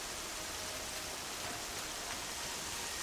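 Steady rain in Horizon Zero Dawn, a constant hiss of falling water with no distinct drops, even and moderately quiet across the whole stretch.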